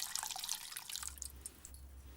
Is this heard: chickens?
no